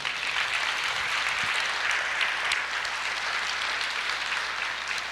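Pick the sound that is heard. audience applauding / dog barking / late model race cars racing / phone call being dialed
audience applauding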